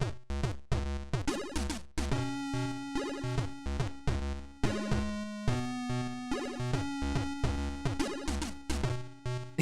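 Chiptune-style soundtrack music from The Chaos Engine on the Atari ST plays alone, with punchy bass notes and bright synthetic tones in a steady, repeating rhythm.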